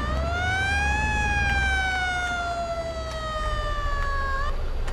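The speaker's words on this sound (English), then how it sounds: "We have the siren" Siren of a 1982 TLX special vehicle in Farming Simulator 22 wails steadily with a rising then slowly falling pitch, loud and alone with a low engine rumble beneath.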